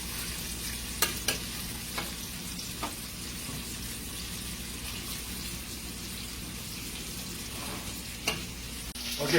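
Homemade meatballs searing in a pan give a steady, quiet sizzle throughout, broken by a few sharp clicks and scrapes of utensils.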